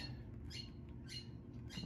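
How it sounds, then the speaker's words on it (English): Pet birds squawk and chirp indoors in a few brief, faint bursts over a low steady background hum, with no one talking. "the birds are talking again"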